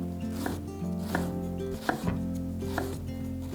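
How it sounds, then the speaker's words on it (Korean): A knife push-cutting food into thin slices on a cutting board, giving four or five distinct, evenly spaced chopping knocks over a low steady background hum, close up and with no talking. "이때는 당겨 썰기보다는 밀어 썰기 해주시는 게 가장 좋아요"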